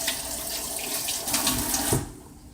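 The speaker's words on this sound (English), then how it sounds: "So I'm going to quickly wash my hands" Tap water runs into a kitchen sink during hand washing, a steady close splashing stream that cuts off near the end, with no talking.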